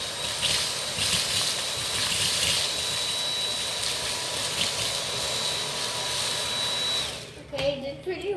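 A Dyson vacuum cleaner runs at a loud steady whine for about seven seconds, then cuts off abruptly, leaving brief quiet handling noises.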